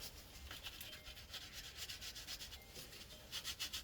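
Someone scrapes paint off a Blick clock with a piece of card, giving short, quiet, rhythmic rubbing strokes at close range that repeat and quicken toward the end.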